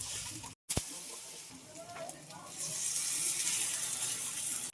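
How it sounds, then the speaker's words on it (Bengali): Lentil and jute leaf fritters fry in mustard oil, giving a steady bright sizzle that swells louder and denser over the last couple of seconds after a brief drop-out near the start. "পাতলা পাতলা করে বড়াটা ভাজবো, সর্ষের তেলে ভাজবো"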